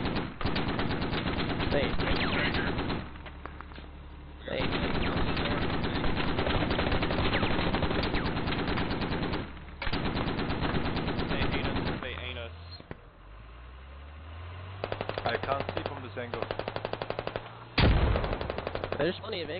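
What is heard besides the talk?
gunfire shooting in a video game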